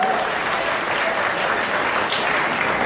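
A college freshers' party audience applauds a university executive member, a doctor, as he is welcomed. Dense, even clapping fills the whole short stretch at a steady volume.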